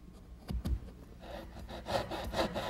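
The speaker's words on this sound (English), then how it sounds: "I'm just going to cut those out using my dovetailing saw" Strokes of a dovetail saw cutting tails into a wooden tray piece, two sharp low thumps first, then steady rhythmic rasping back-and-forth cuts, close and moderately loud.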